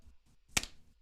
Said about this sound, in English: You ready to clap?